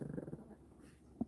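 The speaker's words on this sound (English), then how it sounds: "Oh, baby's growling." A dog gives a low, rumbling growl at close range in a quiet room, a short pulsing grumble that fades out, followed by one brief soft huff.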